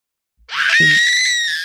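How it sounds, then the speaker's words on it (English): A woman lets out one long, loud, high-pitched scream that starts abruptly and holds to the end, heard alone in a dramatized story. "Oma screamed."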